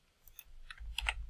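Several faint, quick computer mouse clicks at a desk while working in PSPICE circuit software, close and quiet with no voices.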